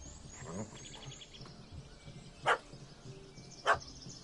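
A puppy barks in a PS4 video game, two short sharp yelps spaced about a second apart over a low background of game ambience.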